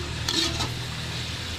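Shredded cabbage stirred in a pan for a village-style egg and cabbage dish, a brief scrape or two of a utensil over a steady low sizzling hiss, close by, with no voices.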